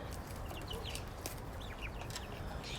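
Young turkeys on a farm cluck and chirp while feeding, a steady flock murmur with scattered short calls over constant background noise.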